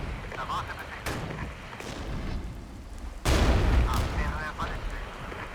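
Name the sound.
artillery and gunfire shots in the video game Regiments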